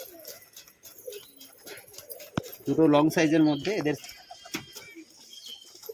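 Old pigeons in a home loft coo in a close, rumbling burst with harmonic layers, rising over a background of people talking nearby.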